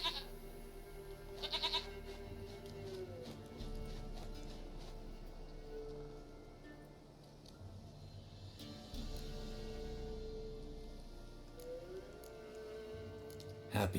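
A goat in The Witcher 3 bleats over the game's ambient music and background hum, a few repeated cries at moderate level while a character speaks.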